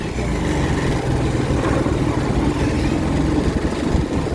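A motorbike engine runs steadily on a ride, giving a continuous low rumble mixed with wind noise and no pauses.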